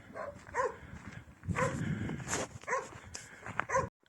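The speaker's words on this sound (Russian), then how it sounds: "Собаки там почувствовали чужого." Dogs barking at a white cat crossing a road, several bursts of barks and yips spread across the few seconds, moderately close and with no talk over them.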